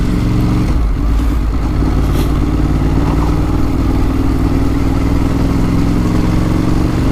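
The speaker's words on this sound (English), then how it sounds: "I am out and about on the bike, going for a little ride through the village of Banwell." A motorbike rides through a village, its engine droning steadily and loudly throughout with a constant low, throbbing tone and no break.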